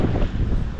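Wind buffets the microphone aboard a sailboat in 14 knots of breeze, a steady, close, low roar that fills the brief moment with no voices.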